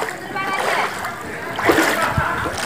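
Floodwater filling a street lane during a flood in Gokak, with sloshing and splashing of water as something moves through it, irregular splashes under a person talking.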